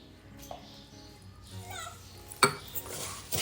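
A spoon mixes puffed rice snack mixture with oil, lemon juice and coriander in a metal bowl, giving soft scraping rustles and a few sharp clinks close by, with faint background voices.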